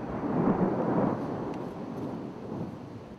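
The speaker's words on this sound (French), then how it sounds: "L'orage nous a chassés" Thunder from a storm over the Isère riverbank rolls as one long, loud, deep rumble that swells and then slowly fades.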